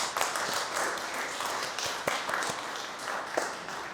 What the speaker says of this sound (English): A round of applause for Bruce, please